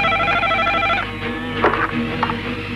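A telephone rings at home, several clear repeated electronic ring bursts close and loud with no voices.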